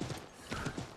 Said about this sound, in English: Run faster, horse.